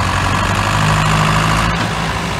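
A Steyr tractor engine straining in a heavy gear, a loud, steady low rumble that holds evenly throughout without pauses, no voices over it.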